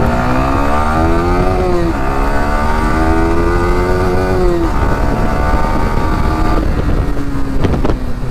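A 2021 Yamaha R15M motorcycle being ridden, its engine whine climbing steadily through the gears with short dips at each shift, loud and close under constant wind rush.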